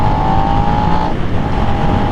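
A Suzuki SV650 sport bike engine pulls hard under acceleration, a loud, steady, close-up drone with a strong whining tone that briefly dips as if shifting before climbing again.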